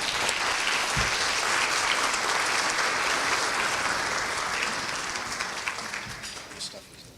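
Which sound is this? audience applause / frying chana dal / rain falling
audience applause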